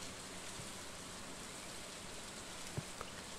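Soft, even rain falls in the farming video game Stardew Valley, a faint steady hiss with no distinct drops, a couple of tiny ticks near the end, and no voices.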